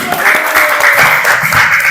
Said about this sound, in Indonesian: Tepuk tangan dong buat Radi.